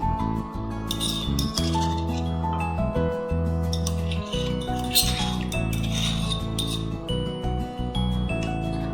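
A spoon stirring curd starter into milk in a container, giving a steady run of light clinks and scrapes, close and continuous over a constant background hum.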